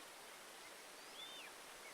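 Running water in the origami-themed video game Tengami, a soft, steady stream-like rush that stays faint and even throughout, with no voices.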